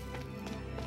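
Horse hooves clip-clop at a quick running rhythm in the video game Tales of Aries, close and steady over game background sound.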